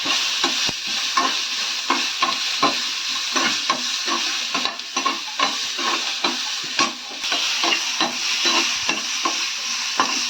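Masala sautés in oil left over from frying brinjal, with a spatula scraping the pan in a quick, regular stirring rhythm over a steady close sizzle.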